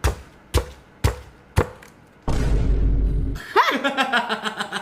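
Golden-brown air-fried chicken is smashed with sambal bawang, making four heavy, evenly spaced thuds nearby. A stretch of rough grinding follows, then laughter and chatter.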